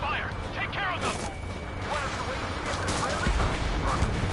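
Rapid gunfire and explosions from the Ace Combat 7 flight game, dense bursts of shots and crashes layered over engine roar, with voices talking throughout.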